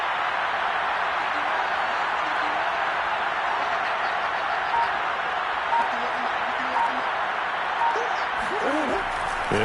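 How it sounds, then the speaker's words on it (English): A packed football stadium crowd roars steadily near the end of a tied fourth quarter before a two-point conversion, a loud, sustained wash of cheering with a few louder swells throughout. "Listen to this crowd now."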